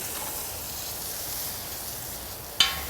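Butter sizzling on a hot grill, a faint, steady hiss from close by, ending in a single sharp click or tap.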